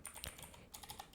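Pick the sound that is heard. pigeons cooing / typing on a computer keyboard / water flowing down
typing on a computer keyboard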